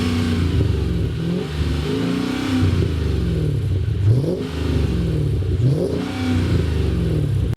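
A wide body Mercedes CLK 55 AMG engine revs loudly while driving, rising and falling in repeated throttle sweeps, close and continuous.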